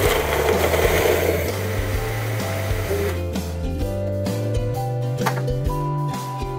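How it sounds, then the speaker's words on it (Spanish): A blender purees cooked pumpkin into a smooth cream soup. Its loud motor whine holds steady, then shifts pitch in stepped jumps as the mixture churns, with no talking. "vamos a licuar toda la preparación para que nos quede una mezcla fina"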